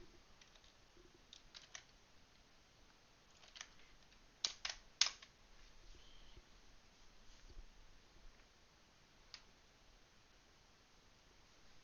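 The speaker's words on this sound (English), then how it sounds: "Would you terribly mind typing that for me?" Keys on a computer keyboard are tapped in short, irregular bursts while a book title is typed, with a quick cluster of louder clicks midway and quiet pauses between, no talk.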